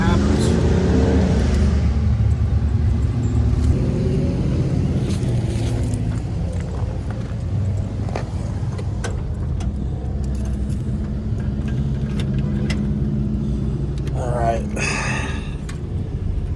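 A barn find Chevy's engine cranks over and runs with a steady, loud mechanical drone that fills the whole stretch, with small clinks and keys jangling in the foreground.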